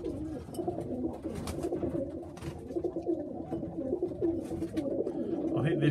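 A pigeon or dove coos at a bird show, soft repeated low coos close by over a faint room background with a little distant chatter.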